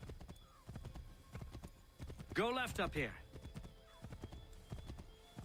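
A horse in Assassin's Creed 3 gallops with a steady, rapid clip-clop of hooves and lets out a loud neigh midway, while someone speaks over it.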